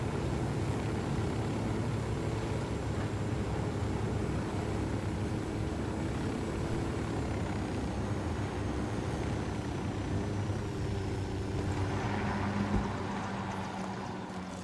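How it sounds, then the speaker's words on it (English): A helicopter in the video game Ghost Recon Wildlands drones steadily with a low rotor and engine rumble plus a faint high whine, loud and continuous throughout. "The helicopter feels about the same"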